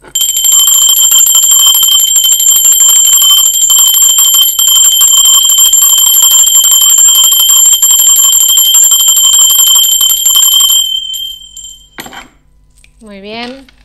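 A bright bell rings with a sustained shimmering tone for about eleven seconds, then cuts off, followed by a few faint scattered sounds.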